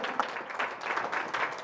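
A church congregation applauds in a steady, dense clatter of many hands, moderately loud and close, with no pauses during the burst.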